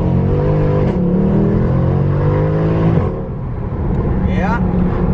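A sports car engine revs hard and accelerates, rear tires spinning, tone rising in strong harmonic sweeps, with a loud steady roar close by and speech mixed in.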